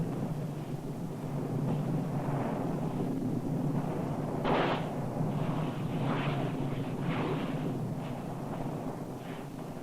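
Nyiragongo volcano's lava lake in constant eruption, heard as a steady, loud roar from the crater floor with bursts of rushing, crackling surges and one sharper blast, like wind and distant explosions.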